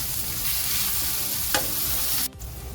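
A spiced pav bhaji mixture with red chili powder sizzles and fries in a pan while being stirred, a steady close crackle with a scrape partway through, cutting off abruptly near the end.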